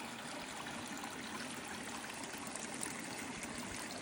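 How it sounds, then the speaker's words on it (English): Steady trickling and splashing of water falling from a waterfall into a koi pond outdoors, a continuous close wash with no pauses and no voices. "A waterfall there."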